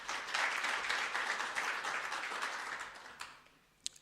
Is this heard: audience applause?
yes